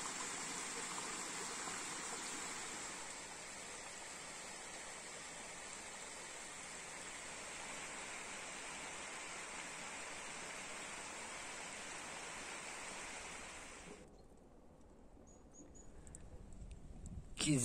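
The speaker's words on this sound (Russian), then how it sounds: "Переходим на половину пересохшую реку." Water flows steadily in a half-dried mountain river on a trail above Yalta, a constant hiss of shallow current close by that drops away near the end, followed by faint rustling.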